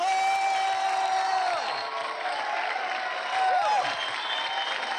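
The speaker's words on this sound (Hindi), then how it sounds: "एक बार फिर से जोरदार तालियां बजाइए अपार शक्ति खुराना" A studio audience claps and cheers for actor Aparshakti Khurana on a Colors comedy roast show, a dense steady wash of applause and crowd noise with whistling tones sliding across it for the full five seconds.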